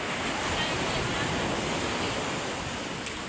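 Rough, churning sea after Typhoon Uwan, a loud continuous wash of surf and wind noise filling the whole moment without pause.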